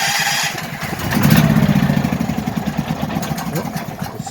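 A Duramax 8500 dual fuel generator engine is started, giving a brief cranking noise before it catches into a rapid, pulsing chug that continues steadily close by.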